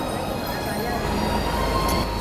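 A Hong Kong subway train on the Disneyland line rumbles steadily at close range, with a constant low roar and faint metallic squeals throughout.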